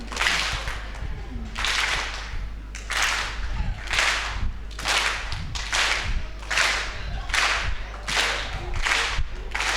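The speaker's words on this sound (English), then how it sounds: "One clap." A live audience at a Saturday night Buskerteers Choir show at Potters Resorts claps in unison again and again, about once a second, each crisp group clap loud and distinct over a steady low hum.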